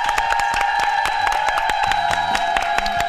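Studio audience claps and cheers for a clinic director and a chef on a Korean cooking segment, a dense steady burst of many hands with scattered whoops under a sustained musical tone.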